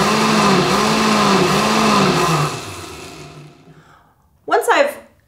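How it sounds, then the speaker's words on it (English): A blender pulping mushroom paper slurry whirs loudly with a wobbling pitch, then winds down and fades to near silence before a short, sharp sound at the end. "I'm gonna add this back into the blender and run through this process 3 or 4 times"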